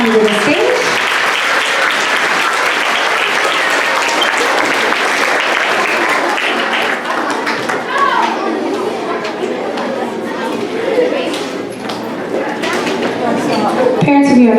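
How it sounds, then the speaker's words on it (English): Loud, dense applause from parents and guests at a school awards assembly as boys and girls come up to the stage, mixed with crowd chatter throughout and easing slightly before picking back up near the end. "Let's give these boys and girls for art a big round of applause as they come to the stage."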